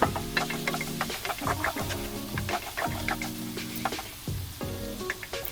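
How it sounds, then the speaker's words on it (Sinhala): Cashews frying in a pan with garlic, ginger and tomato, giving a steady close sizzle with scattered crackles and stirring clatter over a faint tonal background. "ඊට පස්සේ අර මේ කජු ටිකත් ඒකටම දාලා බැද ගන්න."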